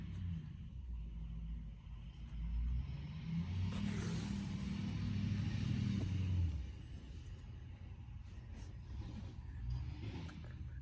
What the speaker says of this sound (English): That's a pickup truck on the golf cart path.